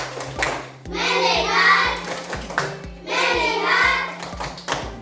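A school class claps out a sharp rhythmic pattern of beats, the Indonesian 'tepuk fokus' focus clap, interleaved with children chanting together.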